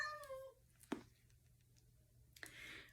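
A pet cat meows in a quiet room, a short harmonic cry at the start followed by a sharp click and a second, fainter call near the end, with no talking.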